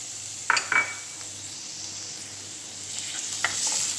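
Garlic frying in hot oil while being stirred, a soft steady sizzle with a few sharp metallic clinks of a utensil against the pan near the start and again toward the end.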